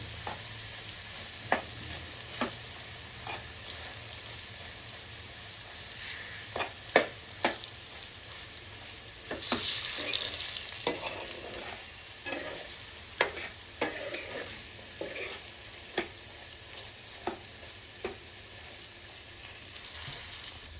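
Bitter gourd fried with garlic and chili powder in a pan, a soft continuous sizzle punctuated by repeated sharp clicks and scrapes of a spatula stirring, with a busier stretch of stirring midway.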